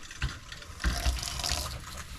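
Pink, foamy antifreeze-tinged water splashes and gushes out of an RV's plumbing during a flush, a continuous close wet rush with a few heavier surges, no talking.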